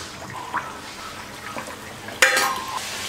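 A vegetable spring roll fries in hot oil in a kadai, giving a soft steady sizzle and bubbling that jumps to a sharper, louder crackle about two seconds in, with no speech.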